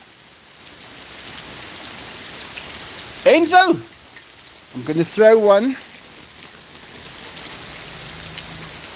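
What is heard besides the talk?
rain falling outdoors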